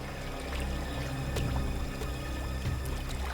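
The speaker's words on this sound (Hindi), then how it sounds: "इस तरफ से पानी के बहने की आवाज आ रही है" Water flows steadily somewhere in a jungle, a continuous, fairly faint rushing and pouring with a few soft splashes, and no one speaking.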